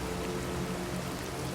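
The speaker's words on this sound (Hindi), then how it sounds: "आंधी, तेज बारिश और मुकम्मल ब्लैकआउट।" Heavy storm rain pours steadily as an animated sound effect, a dense, even hiss of falling water with no breaks and no voices.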